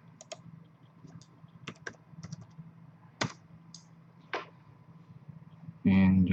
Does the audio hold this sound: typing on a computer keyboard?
yes